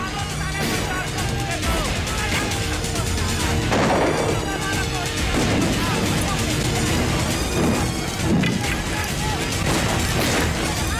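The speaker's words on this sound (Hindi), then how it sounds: "गोली चला दे रहा हूँ" Repeated gunshots and crashing impacts ring out amid dramatic background sound in a Hindi action film, with voices shouting over the chaos.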